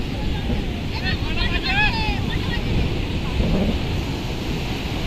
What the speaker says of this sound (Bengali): দেখেছো কত বড় বড় ঢেউ আসছে